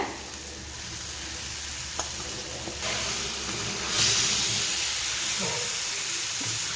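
Chicken pieces drop into a pan of frying tomato masala for Chettinad pepper chicken, a steady close sizzle and hiss that swells with a burst of steam partway through, along with some scraping stirs and no talking.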